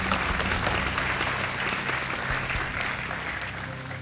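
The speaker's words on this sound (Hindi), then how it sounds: "तालियों के साथ आपका हम स्वागत करते हैं" A studio audience at a television quiz show claps continuously, loud dense applause holding steady throughout before easing slightly at the end.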